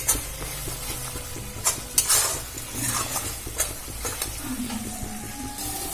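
Spiced masala for a Bengali rohu fish kalia sizzles and fries steadily in oil in a pan, with close scraping and stirring strokes of a spatula over about six seconds and no speech.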